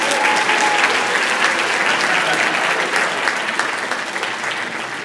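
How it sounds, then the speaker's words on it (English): A large audience at a Teach For America event breaks into a sustained round of applause, dense and loud throughout, with no voices over it. "Give me a round of applause."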